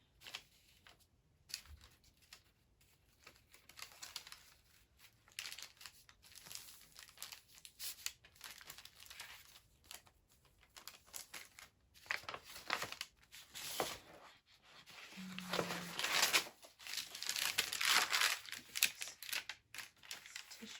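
Paper crinkles and rustles irregularly, close and moderately loud, as pages and scraps are handled and crumpled while a junk journal is assembled, building to denser bursts near the end.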